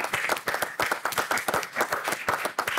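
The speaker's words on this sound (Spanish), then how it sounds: "Fuerte aplauso para ellos, señores." Studio audience clapping on a televised cooking competition, sharp distinct hand claps in a lively, uneven rhythm that stays loud and close the whole time.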